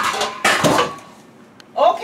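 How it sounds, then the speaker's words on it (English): Pots being checked and handled beside a dishwasher during housekeeping work, giving a couple of loud clattering metal knocks with a quieter scrape near the end, close by. "Then we are gonna check our pots."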